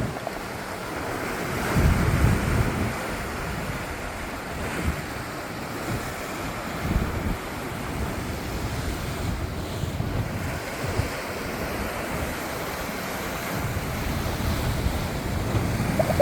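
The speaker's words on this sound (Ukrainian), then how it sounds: "Давайте тепер послухаємо які бувають звуки моря" Continuous roar of sea surf with waves washing in and breaking, steady and fairly loud, with wind buffeting the microphone throughout.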